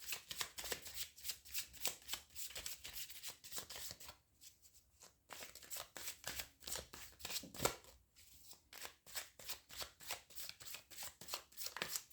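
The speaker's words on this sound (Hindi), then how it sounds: "हम और कार्ड्स ले लेते हैं।" Tarot reading cards being shuffled over and over in quick riffling bursts with short pauses between rounds, close and fairly quiet, no voice over them.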